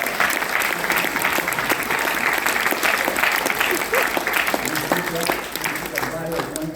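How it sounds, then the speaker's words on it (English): An audience at a stage hypnosis show at a hypnotists' guild event breaks into loud, sustained applause, dense clapping that fills the room and eases slightly toward the end, with voices mixed in. "do give this guy a round of applause."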